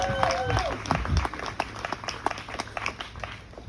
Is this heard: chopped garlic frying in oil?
no